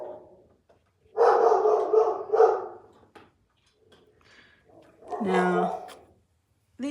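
Dogs bark in a couple of loud, close bursts, separated by quieter gaps and a soft whimper, with no other sounds competing.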